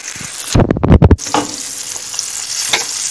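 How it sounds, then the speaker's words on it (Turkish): Palamut (bonito) fillets fry in oil in a pan, with a loud burst of crackling and spattering early on before settling into a softer, steady sizzle. "Bakın nar gibi kızardı balıklarımız. Tam kıvamında kızardı."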